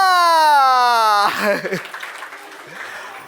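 Applause from an audience at a live magic show at Geeta Ashram, breaking out as a loud sustained musical tone cuts off, then continuing as a thinning, scattered clatter of claps.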